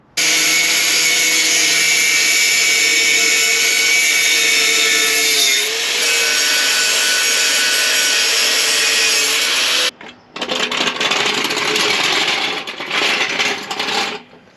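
Grinding through the old exhaust on a Land Rover Discovery 2 (L318), a loud, steady, high-pitched metal whine held for about ten seconds, then a brief break before rougher, fluctuating grinding resumes.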